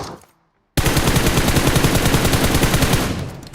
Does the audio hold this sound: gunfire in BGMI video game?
yes